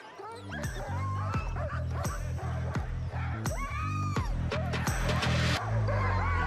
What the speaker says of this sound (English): showcasing the world's greatest mushers and their team of sled dogs at Iditarod 51